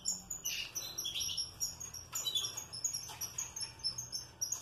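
Several canaries in breeding cages sing at once, bright rapid trills and chirps that overlap continuously, fairly soft at moderate distance, with light cage rustling beneath.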